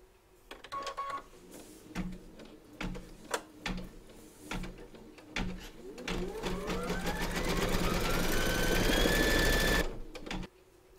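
An embroidery machine stitches round number 4 of a large surfing Santa design through a hooped fabric, a rapid mechanical whirring that starts in short bursts and settles into a steady, loud, continuous buzz before stopping abruptly.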